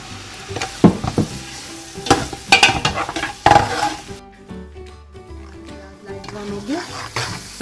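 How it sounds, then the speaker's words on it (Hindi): Onion dropped into hot oil for macaroni biryani, with loud stirring clatters and scrapes at first, then a softer sizzle under a quieter patch, alongside faint background voice. "2 चम्मच हम ऑयल लेंगे और इसमें हम प्याज डालेंगे। प्याज लाइट ब्राउन होगा।"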